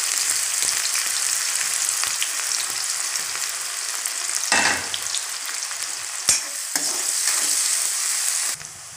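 Steady, bright sizzling of onions frying in hot oil with asafoetida, continuous throughout, with a few stirring scrapes and clinks and no talking.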